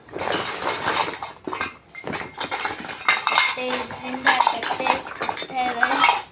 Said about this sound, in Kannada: ಒಂದು ತಟ್ಟೆ ತಗೋ ಚಪಾತಿ ಹಾಕೋಕ್ಕೆ.